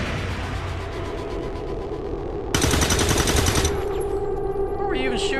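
Rapid automatic gunfire from the video game XCOM 2: War of the Chosen erupts in a loud, dense burst over a bed of game ambience and voices, then settles into a steady layered background.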